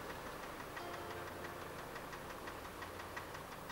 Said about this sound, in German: Nur ein Traktor fährt vorbei.